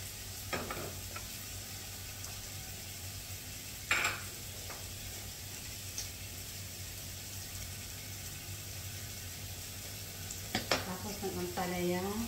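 Bitter gourd (ampalaya) stir-fried in a pan, giving a steady low sizzle with a few scraping stirs and brief clinks against the pan, quiet and continuous with no talk.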